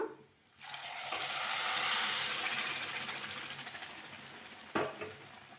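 A lentil and rice mixture frying in a pan for khara pongal, a soft, steady sizzle that rises after a quiet start, then fades slightly, with one brief utensil knock near the end.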